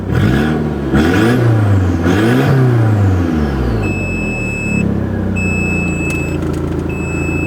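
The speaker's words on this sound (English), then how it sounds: "That's just warning me the handbrake's on." An Audi TT's handbrake warning gives a steady high electronic beep in regular on-off pulses over the running engine, which revs a few times before settling.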